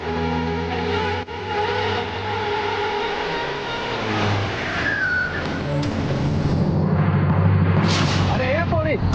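A car engine revs in a Marathi TV drama street scene, a loud, sustained roar that builds over several seconds, with people talking and a short whistle-like tone over it.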